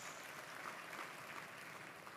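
Church congregation applauding during a sermon, a faint steady patter of many hands that holds evenly throughout at a distance.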